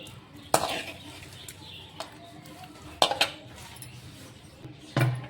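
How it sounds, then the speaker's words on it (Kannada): Potato gravy is served into a bowl at home, with three or four sharp clinks of a metal spoon against the dish. Softer scraping fills the gaps, close up and with no talk. "ಮಾಡಿ ಇಟ್ಟಿರುವಂಥ ಈ ಆಲೂಗಡ್ಡೆ ಗ್ರೇವಿನ ಇದ್ರೊಳಗೆ ಹಾಕ್ಕೊಳ್ಕತ್ತೀನಿ ನೋಡಿರಿ"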